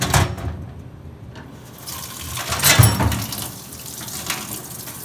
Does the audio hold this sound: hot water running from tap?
yes